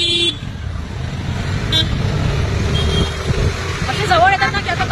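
Close road traffic with a bus passing very near, a loud engine rumble and tyre noise under talking voices, with short horn toots and beeps cutting through.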